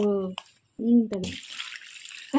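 Water poured into a vessel to rinse it after making ghee, a close, bright rushing splash in the second half, framed by someone talking before and after it.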